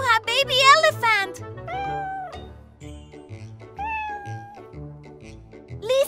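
A cat meows repeatedly and insistently at close range while someone talks and plays with baby dolls, some meows rising into drawn-out, whiny cries between her words.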